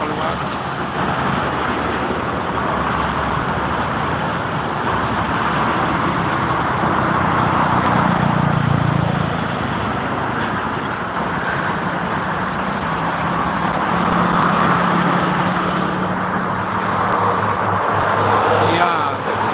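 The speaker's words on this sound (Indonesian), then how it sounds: "truknya udah normal kembali nih, makanya ramai truk pagi, siang, malam" Steady roadway roar of heavy truck traffic on the Jakarta–Cikampek toll road under overcast skies, continuous and fairly loud with engine drones swelling as vehicles pass, no talk.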